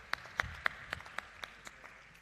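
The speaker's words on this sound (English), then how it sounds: "Shall we give them a good round of applause?" Sparse hand clapping, a few distinct claps spaced evenly and fairly faint, like a small audience applauding in a quiet room.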